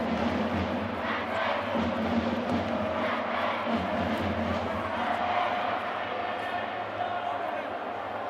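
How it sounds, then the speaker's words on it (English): Steady low rotor drone of a helicopter passing overhead a schoolboy rugby final, continuous and fairly loud, with faint crowd noise and shouts in the background. "Helicopters."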